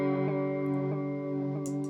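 An electric guitar runs through a Chase Bliss Audio Spectre through-zero flanger pedal with the width turned down: a sustained, ringing chord with a gentle swept shimmer and a few soft repeated plucks, no talking.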